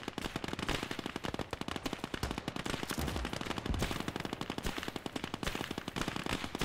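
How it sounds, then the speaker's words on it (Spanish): Sustained machine gun fire from the WWII video game Gates of Hell, rapid dense bursts of shots rattling continuously and loudly with heavy battlefield gunfire throughout. "Bien, está ahí ametralladora."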